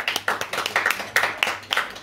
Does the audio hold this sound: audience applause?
yes